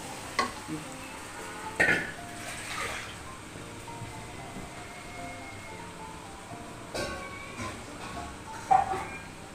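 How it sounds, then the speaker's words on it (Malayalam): Rice roasting in a pan for ghee rice, a soft steady sizzle broken by intermittent stirring scrapes and a few utensil knocks. "അരി ഒന്ന് വറുത്ത് വെക്കാനിട്ടാണ് അരി അരി ചെരിച്ച് കൊടുക്കുന്നുണ്ട്"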